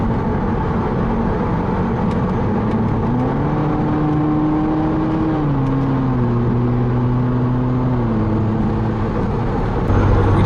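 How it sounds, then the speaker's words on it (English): A Subaru WRX engine in sport mode hums steadily inside the car, its pitch stepping up as the revs climb during a downshift, then settling back down, loud and close throughout. "We definitely rev a little high in the sport mode"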